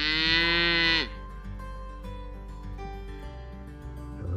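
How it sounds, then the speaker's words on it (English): A baby cow on a homestead lets out one loud, close, drawn-out moo that stops abruptly, followed by quieter farmyard background. "The little baby cow's talking to you."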